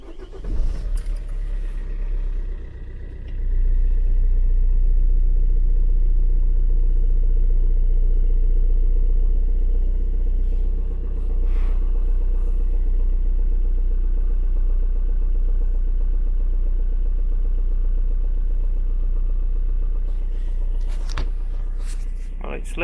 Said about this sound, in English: Start the engine, give it a bit of juice.